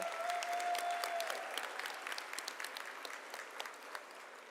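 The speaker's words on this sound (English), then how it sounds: "I would like another round of applause for our commencement speaker" A graduation audience applauds the commencement speaker, a dense, even roar of many hands clapping that gradually thins and softens toward the end, with no voices over it.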